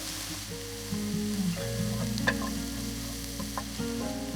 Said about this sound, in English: We just want to fry this off for a minute or so, just to soften and start to caramelise the onion, garlic and ginger.